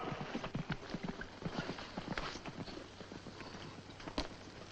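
Horses walk with rapid clip-clop hooves at a troop's dismount in a 1951 western, the hoofbeats moderately loud and overlapping in an uneven rhythm over a low background rumble.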